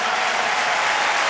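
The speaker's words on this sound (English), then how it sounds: "rhythmic clapping from the crowd" A large stadium crowd claps at the 2008 U.S. Olympic Trials men's 3000 m steeplechase, a loud, dense, steady wash of applause with no pauses.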